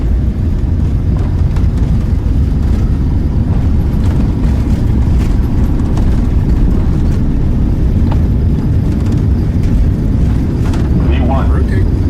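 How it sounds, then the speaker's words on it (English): Airliner engines roaring during the takeoff roll in a flight simulator game, a heavy, steady low rumble that fills the whole span while a person talks over it. "About to take off."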